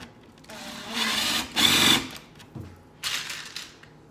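A power drill whirs in short bursts, recessing a screw hole deeper into wood for a reptile cage, with the motor spinning up and down over a couple of close, fairly loud pulses.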